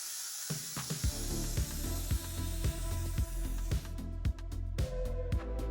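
Sandblasting equipment blasts cast iron/steel grit against metal, making a continuous harsh, loud hiss close by. Sharp clicks break through the hiss at fairly regular intervals, like a trigger or valve cycling.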